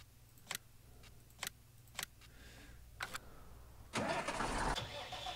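A few sharp clicks sound first, then a tractor engine cranks and starts in the Farming Simulator 19 video game, a loud, rough mid-pitched roar that settles into a running idle.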